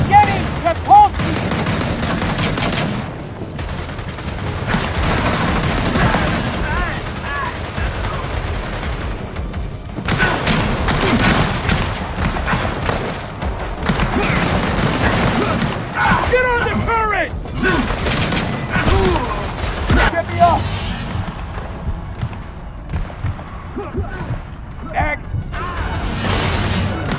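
Turret gunfire in the Gears of War 4 video game, sustained bursts of heavy automatic fire with booming impacts and crashes running through the scene, loud and near, mixed with shouted voices of soldiers.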